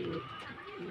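A racing pigeon coos in short low repeated calls, close and fairly loud, after arriving home from a 140.74 km training flight from San Leonardo, Nueva Ecija.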